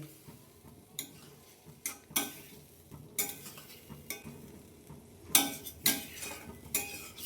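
A spoon stirs ridge gourd fritters in a frying pan with spices, making irregular metallic scrapes and clinks against the pan over a soft background sizzle, close and fairly quiet.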